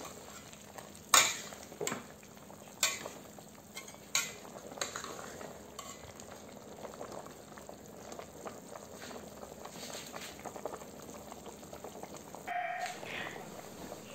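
A spoon scrapes and knocks against a pot as food is stirred, with a few sharp clanks early on, over a soft background simmer.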